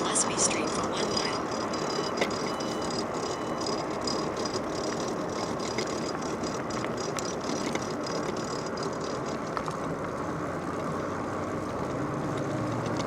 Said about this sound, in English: Got to figure out why I have such a profound rattling noise. I'm pretty sure it's the differential in the rear end on the axle there.